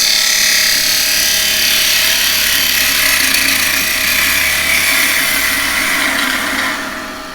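A wood lathe turns a Zebrano wood blank while a carbide tool cuts, producing a loud, continuous scraping hiss over a steady motor hum that eases slightly at the end, close up with no talking.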